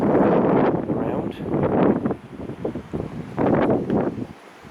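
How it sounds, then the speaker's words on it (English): Strong wind near Farleigh Hungerford Castle buffets the microphone in heavy roaring gusts, swelling and easing over several seconds with no other clear sound. "It's very windy."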